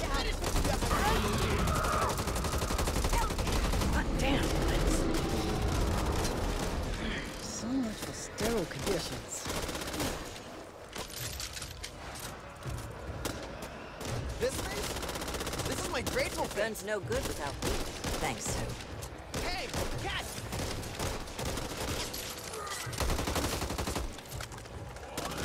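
Sustained automatic gunfire and rapid shots in the zombie shooter Back 4 Blood, loud and dense at first, then continuing as choppy bursts with mechanical clatter through the rest.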